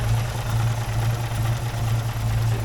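A small 1953 car engine idles steadily at close range, a smooth, even mechanical hum with a low ticking pulse and no voices.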